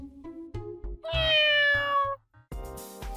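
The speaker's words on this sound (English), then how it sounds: "Meow." A cat meows close up, a few short calls leading into one long, loud, drawn-out meow, then another meow at the end, set in an anime scene about a boyfriend turned into a cat.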